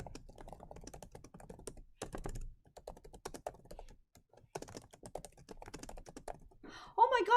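Fingers tap on a computer keyboard in quick bursts of clicky keystrokes with short pauses, fairly quiet and close, ending in a louder clatter.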